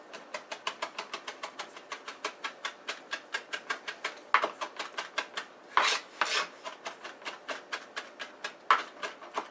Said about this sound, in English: Alright, we're going to do a quick mince on this.